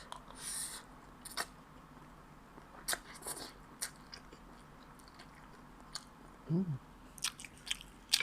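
Close, quiet bites and crunchy chews on spicy Mama instant noodle salad, a few scattered crisp snaps and soft mouth sounds separated by near silence.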